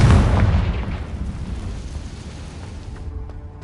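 A Confringo spell explodes in Hogwarts Legacy, a loud booming blast that hits at once and then rumbles away over a few seconds, with faint clicks as it fades.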